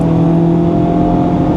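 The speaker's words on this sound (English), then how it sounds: "Love how you can just wind it out, you know. It loves revving out." A Honda Civic Type R FL5 engine revs hard and steady from inside the car, a loud sustained drone with strong tonal harmonics and no talk.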